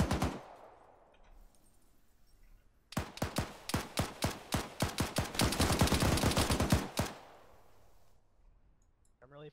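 Rapid bursts of automatic gunfire in the military shooter Arma 3, firing at Russian forces: a sharp, loud, rhythmic string of shots for several seconds, framed by quieter ambient noise before and after.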